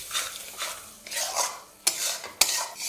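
Spices being stirred into mutton masala in a pan, with repeated scraping strokes of a spoon and two sharp clinks of metal against the pan, close and fairly loud, no voices.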